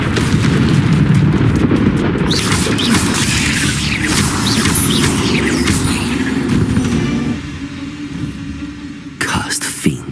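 Incendio fire spell cast in Hogwarts Legacy during a spider boss fight, a loud roaring burst of flame that runs near-continuously for most of the span, then drops away before a brief final flare, with a voice speaking over it.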